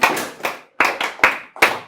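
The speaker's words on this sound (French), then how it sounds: "applaudissez pour elle" A few people clap briefly, several sharp separate claps in a short burst rather than a full room's applause.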